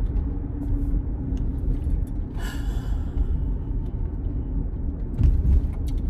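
A car rolling along a road on a hot day, a steady low engine and tyre rumble filling the whole stretch with a brief rise of road noise partway through, no talking.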